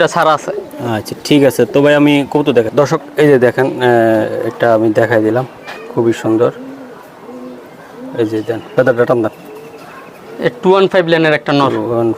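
Racing pigeons at a pigeon farm coo in low, rolling calls close by, with people talking over them for much of the time.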